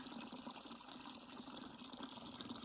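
Water runs into a container at a trail water source along the Pacific Crest Trail in the Rogue River National Forest, a soft, continuous trickle and gurgle at low level with small splashy bursts throughout.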